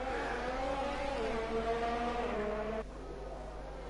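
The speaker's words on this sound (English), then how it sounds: "So out onto track come the cars." Racing cars heading out onto the track in an F1 video game at the Mexico round, a steady engine whine with rising pitch, continuous and moderately quiet, dropping lower partway through.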